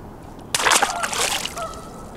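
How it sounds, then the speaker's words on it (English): A live shad dropped by hand into the water lands with a sudden close splash, followed by a short sloshing ripple that settles quickly. "Go ahead and drop him in the water."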